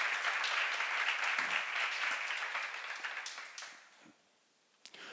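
A church congregation applauds during a sermon seminar, a full, steady round of clapping that thins out and stops, followed by a brief quiet gap before a few stray claps.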